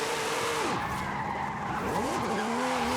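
A Formula Drift car in Forza Horizon 5 screams at high revs with continuous tire squeal, its engine pitch sweeping down and back up twice as it drifts, loud and close with no talk.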